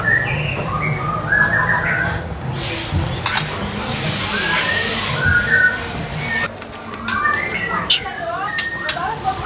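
A white-rumped shama (murai batu) songbird sings varied whistled phrases and chirps at a bird seller's place, loud and close, while men chat in Indonesian over it.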